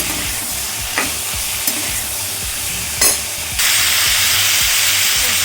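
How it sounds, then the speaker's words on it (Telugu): Tomato pieces fry in a pan for a red tomato chutney, giving a steady close sizzle with a few soft clicks of stirring. The hiss grows louder near the end. "నాలుగు ముక్కలు వేసి ఫ్రై చేద్దాము."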